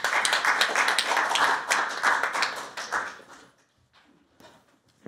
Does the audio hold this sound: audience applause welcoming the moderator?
yes